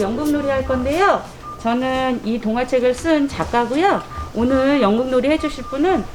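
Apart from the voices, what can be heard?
No distinct noise like a dog, phone or traffic.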